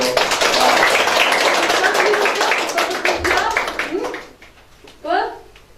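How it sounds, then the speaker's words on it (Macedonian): A classroom of students applauds a classmate during a practical work exam: dense, loud clapping for about three seconds, thinning out as children's voices and an adult's talk take over. "Ајде Ајде да го дадеме со еден аплауз"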